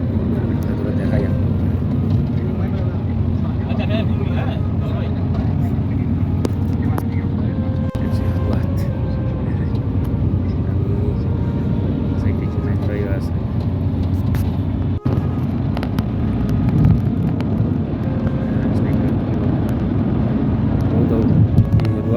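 A taxi drives along the road toward the Haram in Mecca during the Hajj, with a low, steady engine and road rumble inside the cabin throughout and someone talking over it.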